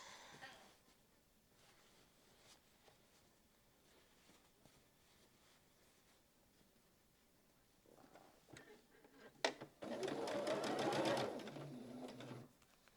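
Near the end a sewing machine runs fast in one continuous burst, stitching the seams of a quilt block, after a long quiet stretch of light handling noises.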